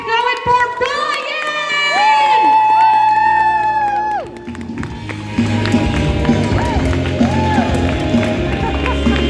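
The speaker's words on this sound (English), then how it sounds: "Clap your hands together and get it going for Brian!" A theater barn audience claps and cheers for a performer coming onstage, steady loud applause with whoops and shouts, while bright music plays over it and then shifts to a lower backing.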